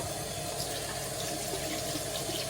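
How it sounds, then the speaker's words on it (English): Paint brush rinsed under a running tap, a steady close stream of water splashing into a sink without pause, no voices. "Give it a good rinse. And as you're rinsing, continue to pull that paint out."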